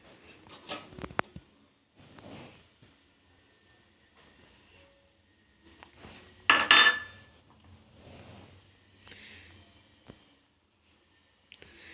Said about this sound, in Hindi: अब आप इसके अंदर सारा मटेरियल, जितने भी हमने पाउडर बनाए हैं, वो हम इसके अंदर मिक्स कर देंगे